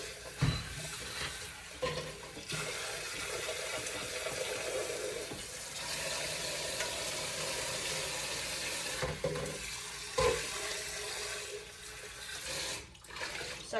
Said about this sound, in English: it just makes my job so much easier when I rinse things off